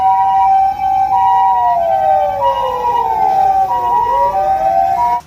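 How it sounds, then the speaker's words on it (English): A toy ambulance plays an electronic siren, its wailing tones sweeping up and down and overlapping in a loud, continuous loop heard up close for several seconds, with no one speaking. "911 ambulance."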